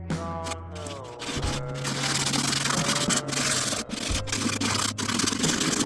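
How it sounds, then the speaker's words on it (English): Sandpaper wrapped around a wooden block scrubs across a cardboard helmet in quick back-and-forth strokes, close and loud, with brief pauses between passes and a low hum underneath. "I'm going to take a block and wrap my sandpaper around it"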